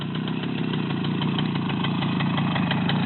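A Romet motorcycle engine idles steadily and continuously, close and fairly loud, with a fine rapid rumble throughout on a learner's first ride.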